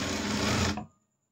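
Sewing machine stitching a folded strip of blouse fabric, a close, loud, rapid mechanical whirr of needle strokes that runs steadily for under a second and then stops abruptly.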